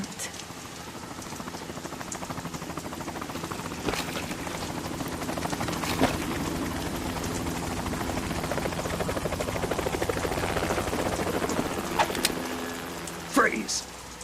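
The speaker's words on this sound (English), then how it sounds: "You will be on the helicopter out of here now." Steady, loud thrum of a helicopter's rotor and engine running continuously, with voices talking over it, in the video game Metal Gear Solid 2: Sons of Liberty.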